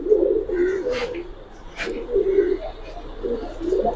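Pigeons cooing at a pigeon farm, repeated soft low coos in an uneven rhythm from several birds nearby, with brief rustles and faint background voices.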